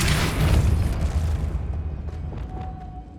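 A Depulso spell cast in Hogwarts Legacy, a loud booming burst that swells over the first second and a half and then decays into a rumbling tail, with no voices.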